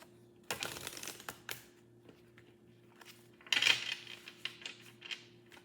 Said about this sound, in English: I'm hearing shuffle them cards another way real quick